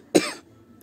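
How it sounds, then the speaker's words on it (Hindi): A single short, sharp cough rings out close by, followed by near silence. "खांसी हो रही है"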